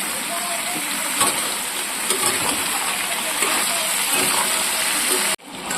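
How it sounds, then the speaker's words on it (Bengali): Mixed vegetables and tomato with salt and turmeric sizzle steadily in a pan, a dense, continuous frying hiss that stays close and fairly loud throughout, with a brief dip near the end. "সবজিগুলো ভাজা হয়ে গেছে"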